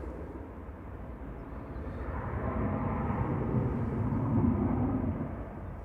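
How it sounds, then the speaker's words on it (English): A Ryanair airliner departs at Manchester Airport, its jet roar a broad, steady rumble in the background that swells gradually and stays loud. "Ryanair departing in the background"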